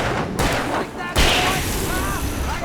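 Gunfire in the video game Alan Wake Remastered: several sharp shots crack out in quick succession, with abrupt loud bursts and ringing tails against background game ambience.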